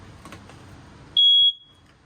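A single loud, high-pitched electronic beep from a smoke detector test in a travel trailer bedroom, lasting about a third of a second, sharp and piercing, after quiet room noise.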